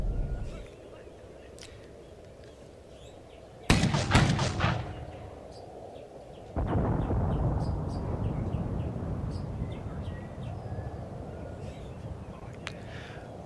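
High explosive artillery rounds land in a World War II tank battle game set in Tunisia in 1943, two heavy booming impacts a few seconds apart, each followed by a long rumbling roar over faint background ambience.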